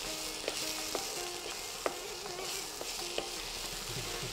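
Finely chopped apple sautés in a pan with a continuous soft sizzle, and a spatula clinks against the metal every half second or so while stirring.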